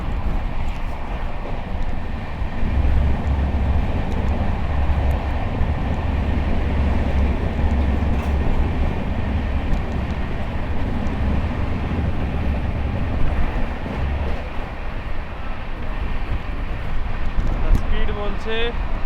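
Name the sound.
Gurumukhi Superfast Express train running at 130 km/h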